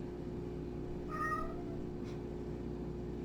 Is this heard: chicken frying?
no